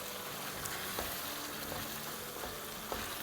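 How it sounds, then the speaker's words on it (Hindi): Onions frying in oil over a medium-high flame for white chicken karahi, a faint, even hiss with occasional soft ticks, distant and quiet, no voices. "बस प्याज़ों के साथ हमें इतनी भुनाई करनी है कि ऑयल सरफेस पे आ जाए"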